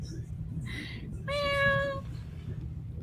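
A person imitates a cat, giving a couple of short, drawn-out meows over steady background noise, close and clear.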